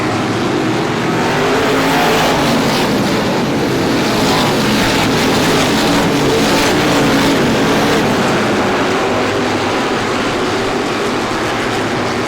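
Race cars on a speedway at the Star Classic roar past together down the front straightaway, a loud continuous engine blare that stays dense and steady throughout.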